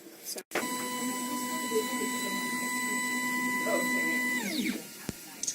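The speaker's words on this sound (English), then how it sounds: "the machine is taking some time to heat up to the right temperature" A 3D printer heating toward printing temperature gives off a steady electronic whine with layered tones and hum that holds for about four seconds, then falls away. A sharp click comes before and after.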